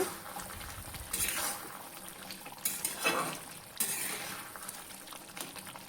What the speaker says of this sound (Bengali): ঢাকনাটা তুলে দিলাম এখন একটু নাড়াইয়া দিব